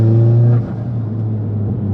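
Mitsubishi Evo X running an E85 tune accelerates hard, a loud, close engine drone with a strong steady harmonic that drops slightly in pitch partway through, then a continued rumbling pull.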